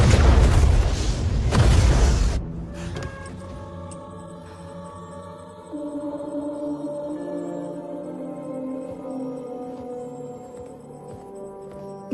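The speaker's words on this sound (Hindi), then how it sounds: "30 सेकंड में धमाका हो जाएगा।" A launched missile explodes in a loud, deep boom with rumbling, which then decays into a sustained musical drone.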